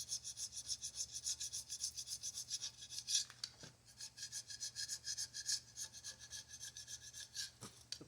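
A metal file with a ground-down end scrapes paint off a metal articulation pin on a John Deere scraper tractor, making steady rhythmic rasping strokes up close with no talking.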